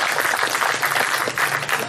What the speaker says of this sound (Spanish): Démelo un aplauso al Señor.